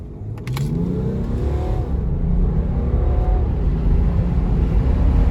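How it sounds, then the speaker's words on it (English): A 2018 BMW 540d xDrive G30 with a diesel engine accelerates hard, its deep engine drone rising steadily and staying loud and close throughout, with no talking. "I'll go ahead and do a quick acceleration."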